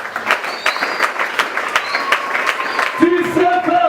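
A church congregation applauds during a Sunday service, dense continuous clapping from a crowd lasting a few seconds, with a louder burst near the end.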